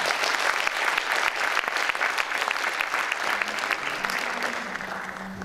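An audience at a memorial program applauds poet Ali Özkan with a full, sustained round of clapping that stays loud throughout and slowly tapers off in the final seconds.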